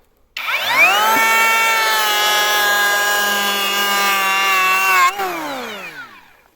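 A cordless electric planer on its first start, depth regulator set to five, whines up to speed, runs with a steady high-pitched motor drone for about five seconds, then spins down and fades out.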